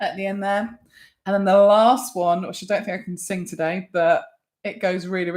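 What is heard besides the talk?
No distinct noise like a dog, phone or traffic.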